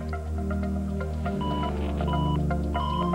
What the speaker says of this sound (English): We're getting the beeps here. Do you hear them?